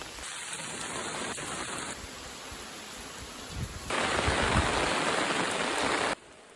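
Steady rain falls in the Japanese countryside, a dense even hiss of drops on surfaces that grows heavier and louder partway through, then eases off abruptly near the end.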